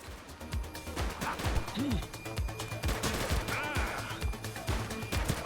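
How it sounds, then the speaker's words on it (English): Gunfire in The Precinct police game comes as a dense, continuous crackle of rapid shots and impacts over a busy, noisy background, with a few scattered voice-like sounds mixed in. "Shots fired!"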